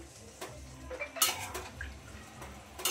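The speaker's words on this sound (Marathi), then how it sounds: "आता आपण ह्याच्यामध्ये शिजवून घेतलेले जे वाल होते ते घालायचे, छान मिक्स करायचंय व्यवस्थित" A spoon scrapes and clinks against a pot while cooked val beans are stirred into a potato curry, giving soft, irregular metallic taps over a low background.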